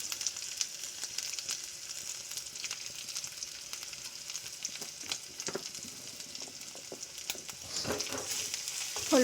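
Turmeric-coated fish curry (bhola fish) is stirred in a frying pan, a steady hiss of sizzling oil with scraping strokes throughout and a louder spatter near the end.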